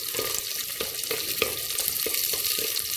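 Onions sauté in a clay pot with a steady crackling sizzle, punctuated by regular soft knocks of a spoon stirring through them at close range.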